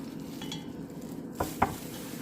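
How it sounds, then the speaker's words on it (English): Tabbouleh salad with bulgur and walnuts is mixed in a bowl, with soft faint rustling and a couple of brief wet squelches, no voices. "Mix that in really, really good. Make sure it's all blended nice and evenly."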